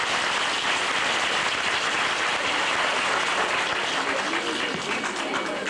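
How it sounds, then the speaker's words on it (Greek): Dense, warm applause from a crowd at a 1999 carnival gathering in Agiasos, a steady wash of many hands clapping that holds evenly throughout without voices. "Νομίζω πως και μόνο γι' αυτό τους αξίζει ένα θερμό χειροκρότημα."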